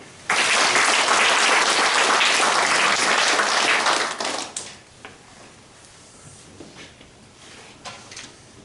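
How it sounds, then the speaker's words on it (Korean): A church congregation gives a loud, dense round of applause that holds steady for about four seconds, then fades quickly into quiet room noise with a few scattered sounds. "다시 한번 박수."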